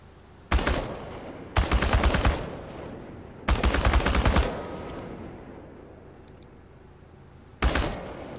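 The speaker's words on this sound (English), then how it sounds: "The biggest challenge is compensating for recoil in automatic firing mode." Automatic weapon fire aimed at tin cans at a practice range in the game Chernobylite: four separate bursts of rapid shots, loud and close, with short pauses between them and a long gap before the last brief burst.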